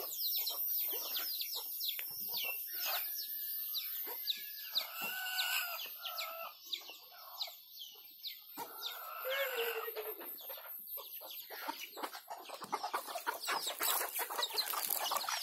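Hybrid jungle fowl cluck and chirp continuously at close range, with a busy layer of bird calls and occasional louder squawks.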